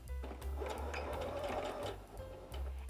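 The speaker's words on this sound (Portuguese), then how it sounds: "vamos colocar a nossa Singer Heavy Duty 6805 para fazer aquele ponto lindo" Singer Heavy Duty 6805 sewing machine stitching fabric, a fast, even mechanical whir with a steady rapid needle rhythm, heard close and continuous with a brief slowdown near the end.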